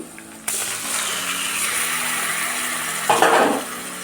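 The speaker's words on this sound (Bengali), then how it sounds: "এবার ম্যারিনেট করা মাছটা আমি দিয়ে দিচ্ছি" Marinated lote (Bombay duck) fish drops into a pan of frying spice paste, setting off a sudden loud sizzle that holds steady, followed by a brief clatter of a utensil against the pan.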